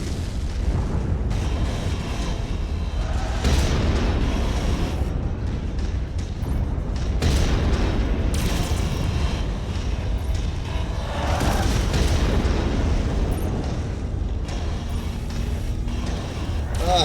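Repeated booming missile explosions during a mech battle in a video game, with long-range missiles and Hunchback mechs, bursts and rumbling blasts recurring over a constant low roar for the full stretch.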